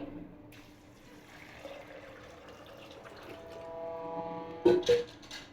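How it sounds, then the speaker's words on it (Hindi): Water runs and splashes into a metal pressure cooker pot of chickpeas for a few seconds, ending in a couple of louder clanks and gurgles, with faint ambient hum beneath. "थोड़ा सा पानी ऐड करूंगी"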